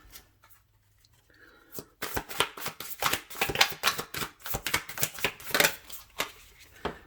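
Tarot cards are shuffled repeatedly up close in a quick run of crisp riffling flutters, preceded by a brief quiet pause and a few soft taps.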